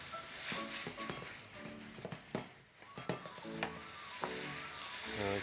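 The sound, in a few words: vegetables sizzling while frying in a pan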